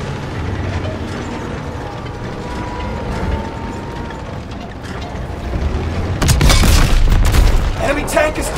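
Tank combat in the World War II shooter Call of Duty: WWII, with steady rumbling mechanical and battle noise that ends in a loud, dense burst of explosion and debris near the end.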